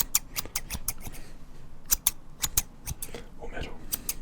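Barbershop-style scissors snipping close up, with a quick string of sharp metallic snips in irregular bursts and a person speaking softly underneath.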